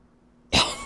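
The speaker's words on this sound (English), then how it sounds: "Have a bit of a cough there that just sort of came on sudden." A single sudden cough bursts out after near-silence, close and loud, one sharp harsh burst that trails off quickly.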